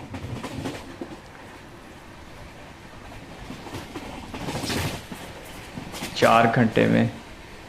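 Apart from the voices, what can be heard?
Delhi-Jaipur double decker train running at speed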